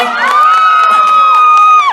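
Loud crowd cheering and shrill screaming greet a singer at a temple Ghost Festival night concert in Zhongli, with sustained high-pitched voices held steady throughout before cutting off abruptly.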